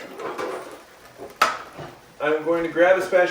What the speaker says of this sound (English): I'm going to grab a spatula.